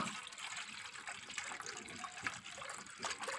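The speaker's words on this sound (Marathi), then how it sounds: "मी आधी गुळाचं हलवून घेतलेलं गाळून घेते" Dissolved jaggery liquid strained into a pot while making kharvas: a steady, soft trickle and splash of liquid runs continuously throughout, with no talking.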